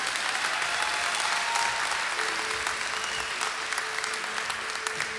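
Audience applause for a singer at the Organ Hall in Chisinau, Moldova, a dense, steady roomful of clapping that carries on without a break, with a few faint tones in the background.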